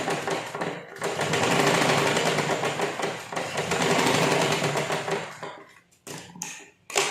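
A sewing machine stitches tucks into a blouse, whirring in two long, fast runs close by, then stopping and starting in short bursts toward the end.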